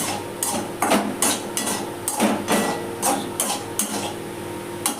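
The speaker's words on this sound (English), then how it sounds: "I'm going to be stirring the onions now" A utensil stirs onions in a pan for a pasta dish, scraping and clinking against the metal in a quick, irregular series of close, sharp knocks.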